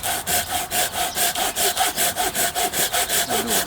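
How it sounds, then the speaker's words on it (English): Folding saw cutting a nut off a piece of wood, with steady rhythmic rasping back-and-forth strokes, about four per second, loud and close. "using our folding saw we will get rid of it"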